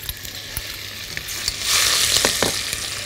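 Roasted garlic sizzles in a spoonful of melted butter for garlic soup, a steady close crackling hiss that swells louder midway, with occasional clicks and scrapes of stirring.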